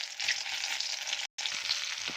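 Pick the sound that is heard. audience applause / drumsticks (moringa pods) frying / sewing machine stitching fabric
drumsticks (moringa pods) frying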